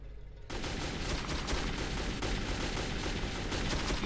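A machine gun in the post-apocalyptic shooter Metro 2033 fires a rapid, unbroken stream of loud rattling shots that kicks in abruptly after a brief quieter moment and continues without pause.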